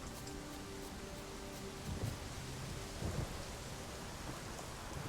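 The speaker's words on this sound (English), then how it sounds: "is that lightning loud" A thunderstorm rolls through in The Witcher 3 video game: steady rain hiss carries throughout, broken by a couple of low thunder rumbles, with no voices.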